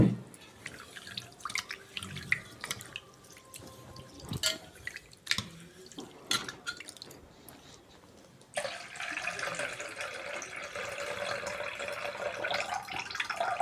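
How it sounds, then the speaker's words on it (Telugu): Millets being rinsed in water by hand, with scattered drips and splashes early on, then a steadier swishing, running-water sound that grows louder in the second half; no talking. "ఏ రకం మిలెట్స్ అయినా సరే శుభ్రంగా కడుక్కోవాలండి త్రీ టైమ్స్ కడుక్కుంటే నీట్గా ఉంటాయి"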